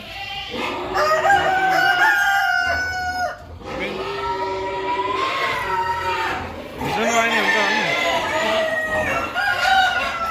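A local rooster at a farm keeping pigs and goats crows loudly and repeatedly, the drawn-out calls overlapping with clucking fowl and people talking nearby.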